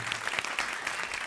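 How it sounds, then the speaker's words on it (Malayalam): Studio audience applause for Prashanth on a Malayalam comedy show, a brief, dense patter of many hands clapping at moderate distance, steady throughout. "അപ്പൊ എന്തായാലും പ്രശാന്തിന് ഒരു ഗംഭീര കയ്യടി."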